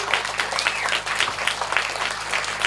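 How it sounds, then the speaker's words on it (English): Brief burst of audience applause for the panel members after they share their stories, steady clapping from a modest crowd filling the whole moment. "I just want everyone to give the panel members and Uncle Wes and Uncle Greg a round of applause for their stories."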